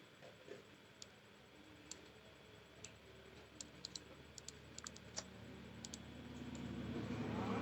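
Someone types a snapshot name on a computer keyboard, sparse quick key clicks in short bursts against a low steady room hum that gradually grows louder, with no talking.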